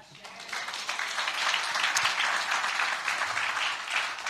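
A church congregation bursts into warm applause during an Indonesian sermon, many hands clapping in a dense, sustained wash that swells quickly and holds, with a few voices mixed in.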